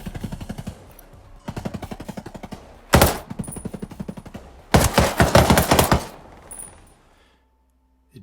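Gunfire from a 516 Shorty rifle in the video game Ghost Recon Breakpoint, rapid evenly spaced automatic bursts, loud and close, separated by brief pauses before fading to quiet.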